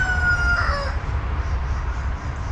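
A rooster gives a single clear crow that ends within the first second, leaving a quiet outdoor background.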